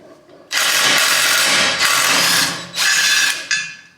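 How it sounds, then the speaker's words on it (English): Power socket driver with a 17 mm socket spinning off bolts from a Toyota Tacoma front end, three loud, close whirring bursts with brief pauses between them. "with a 17-inch socket. That's what takes the bolts off"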